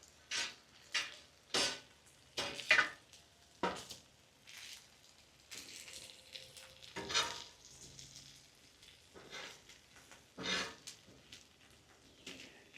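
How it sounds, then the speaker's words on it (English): Sausage links cook on a Loco griddle while a metal spatula scrapes and shifts them, giving a string of sharp, close scraping strokes and clacks over a faint, low sizzle. "A lot of times I'll move it with a spatula, which is what I'm going to do right now."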